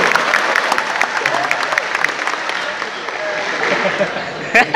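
Audience applause and crowd noise at a live stand-up comedy show in Aceh, a dense spread of clapping with voices mixed in, fairly loud and close throughout.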